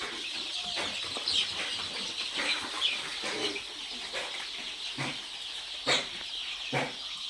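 Chickens on a small local poultry farm cluck and chirp in scattered bursts, with occasional wing flaps over a steady background of flock noise.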